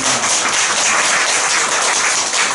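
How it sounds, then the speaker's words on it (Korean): A church congregation gives a short, loud burst of applause for a chairman, with dense, continuous clapping filling the space from start to finish. "우리 박진수 회장님 박수 한번 쳐주세요"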